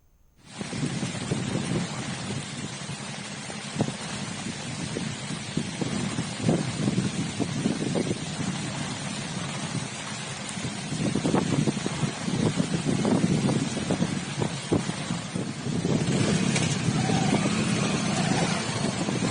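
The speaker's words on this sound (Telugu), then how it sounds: "తూర్పుగోదావరి జిల్లా అంతటా బలమైన ఈదురు గాలులు వీస్తున్నాయి" Strong gusty winds from Cyclone Phethai roar continuously across the East Godavari coast in Andhra Pradesh, buffeting the microphone with a rough, unbroken rush that swells stronger in the later gusts, with no voices.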